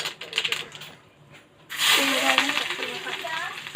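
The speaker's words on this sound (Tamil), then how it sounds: "எண்ணெய் காஞ்சிடுச்சு. நல்லா கடுகு போட்டுட்டு" Mustard seeds hit hot oil in a pan for a South Indian tempering, a burst of dense crackling and sputtering that follows scattered pops and clinks, close and loud.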